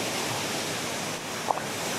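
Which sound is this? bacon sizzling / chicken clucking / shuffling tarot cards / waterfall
waterfall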